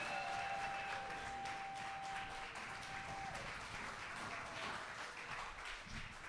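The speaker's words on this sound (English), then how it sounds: "Keep clapping, keep clapping" Sustained audience clapping at a literary festival continues at a steady, moderately loud level, a broad wash of hands with no talk over it.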